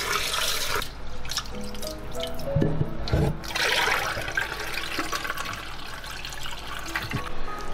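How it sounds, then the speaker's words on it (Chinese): Glutinous rice being rinsed in clear water, a steady run of splashing and trickling water with swishing as the grains are stirred by hand, close and continuous throughout. "用清水淘洗2遍"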